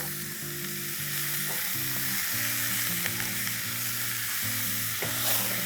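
Minced mutton keema fries and is stirred in a hot pan, a steady bright sizzle with scraping strokes close up, continuous and alone without voices.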